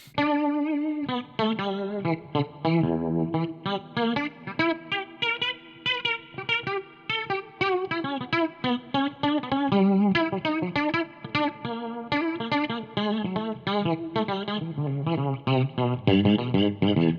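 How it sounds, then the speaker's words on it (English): Electric guitar through a vibrato pedal plays a busy run of chords and single notes with a wobbling effect, steady and fairly loud throughout. "I'll set it to vibrato."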